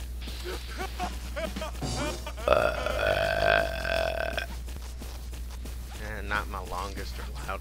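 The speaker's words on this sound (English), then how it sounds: "Not my longest or loudest burp." A single long, croaking burp rises mid-clip after a short grunting lead-in, close and fairly loud, with voiced throaty sounds before and after it.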